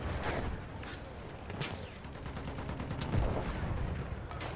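Rapid automatic gunfire from a light machine gun in the shooter game Battlefield 1, a dense rattling stream of shots with sharp cracks over a steady battlefield din.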